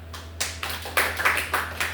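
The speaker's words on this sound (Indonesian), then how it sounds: "Tepuk tangan." A small group of students in a university classroom clapping briefly, a few close, loose, uneven bursts of hands over about two seconds.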